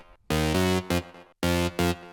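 A fat, analog-style synth lead built from three Model D oscillators in an indie dance track, playing two short rhythmic phrases of sustained, harmonically rich notes with brief gaps between them and no voices.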